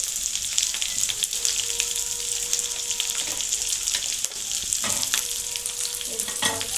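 Spiced masala with chili powder, cumin powder, salt and green chilies frying in a pan, a steady close sizzle with occasional stirring scrapes and clinks throughout.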